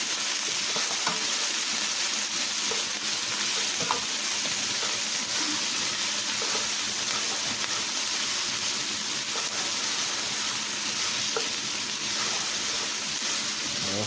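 Onions frying in a pan for smothered pork neck bones, a steady close crackling sizzle with scattered pops running unbroken and alone throughout.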